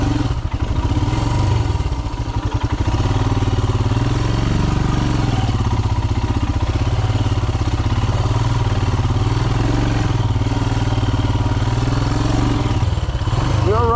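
A Royal Enfield Himalayan motorcycle grinds up a rocky Montana singletrack trail, its single-cylinder engine chugging steadily and loudly close by, with clatter from the rough ground throughout and small swells of throttle near the end.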